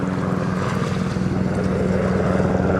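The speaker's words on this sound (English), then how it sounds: "whoa, there's a military helicopter coming." A military helicopter flies overhead at a small tourist spot, a steady loud rotor and engine roar with a rapid pulsing beat, no voices.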